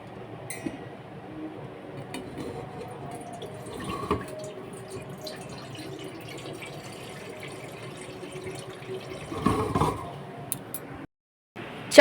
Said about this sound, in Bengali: তো চলো চালটা ধুয়ে নিই।